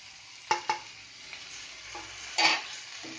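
Curry leaves, ginger garlic paste and spices being stir-fried for spicy brinjal bhaji, with a soft background sizzle, a few spoon scrapes against the pan and one louder stirring clatter, no voices.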